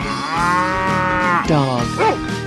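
A cartoon cow in a 3D animal video game moos loudly and close, one long drawn-out low call that bends in pitch near the end, with no voices over it.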